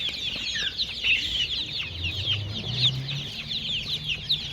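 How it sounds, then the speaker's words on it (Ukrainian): Many chicks for sale at a market cheep and peep continuously in a dense, busy chorus, with a low rumble of background noise underneath. "Покажу вам курчатка."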